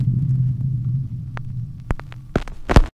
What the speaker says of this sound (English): If you guys can hear the fan noise in the background